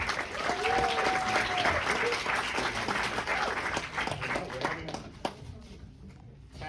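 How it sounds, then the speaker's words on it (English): An audience at a film event for the movie Griffin in Summer claps and cheers in a sustained burst of applause that tapers off toward the end, with some voices mixed in. "Another round of applause for our Casey"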